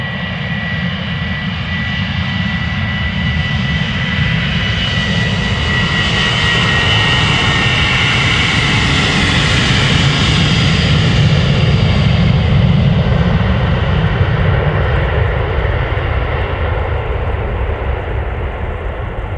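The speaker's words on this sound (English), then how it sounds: "This is KLM flight 925 to Edinburgh. 737-800." A KLM Boeing 737-800, registration PH-BGA and 16 years old, departs Amsterdam Schiphol for Edinburgh with a loud, close jet roar that swells through the middle and holds steady without any voices.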